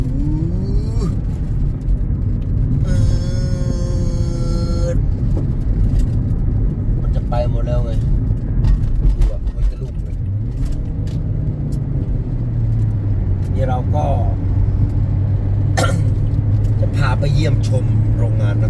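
A remapped car, pouring out white smoke, drives past near a Surin sugar factory with a loud, steady low engine rumble under continuous talk.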